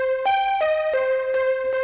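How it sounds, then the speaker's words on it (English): A wavetable synthesizer vocal pad with a breathy timbre plays sustained tones that step between notes in short, even phrases, alone. "right now it's kind of like a chill vocal pad"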